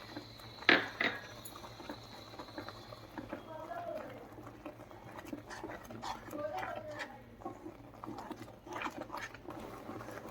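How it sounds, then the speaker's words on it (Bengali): A milk-powder filling for labanga latika is stirred in a pan over low heat, making soft scraping and bubbling sounds under someone speaking throughout. "এবার কিছুক্ষণ নাড়তে হবে, নাড়াচাড়া করে এটা শুকিয়ে আসবে"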